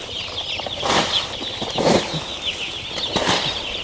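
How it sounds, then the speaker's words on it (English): Chicks being unloaded from delivery crates at a poultry farm flutter and flap in a few short bursts, close by, over a steady high peeping chorus. "Now we're getting rolling to unload all of the chicks."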